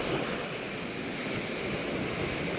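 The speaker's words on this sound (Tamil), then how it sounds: "இப்போ மழையும் வந்து நல்லா பெஞ்சு கொண்டு இருக்குது" Storm rain and wind during a severe cyclone in Jaffna, a steady, loud broadband roar of driving rain and gusting wind with no voices and no break.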